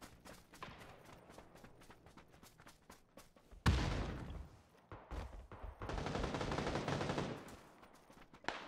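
Rapid bursts of automatic gunfire from PUBG on PC, played in 4K, crack in irregular volleys: sparse sharp shots at first, then louder sustained sprays of fire, close and dense.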